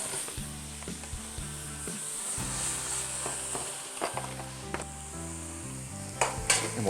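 Two pounds of ground turkey sautéing in a pan, a continuous bright sizzle with occasional stirring clicks and spatula taps, close and steady with no one talking.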